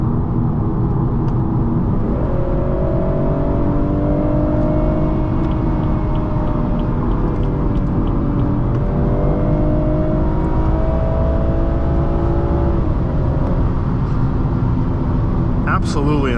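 A BMW 440i coupe driving at speed, around 80, with a steady loud engine and road rumble heard from the cabin and pitch rising and falling as it accelerates.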